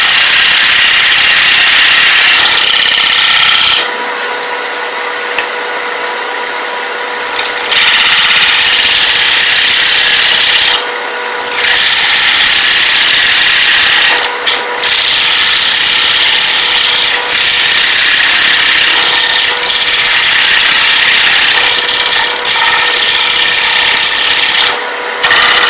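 A gouge cuts into wood while a sushi platter is carved, making a loud, close, harsh scraping hiss that runs steadily for long stretches, broken by a few short pauses where the cutting stops and restarts. No voices are heard.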